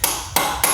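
A mechanic hammers on an engine bracket to drive out a bushing before removing the alternator, three sharp metallic blows about a third of a second apart, close and loud.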